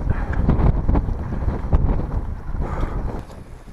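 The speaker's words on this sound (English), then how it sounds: "It's wind." Gusty wind buffets the microphone outdoors at a wild camp near Scales and Blencathra, with loud, irregular rumbling bursts filling the short stretch and no speech.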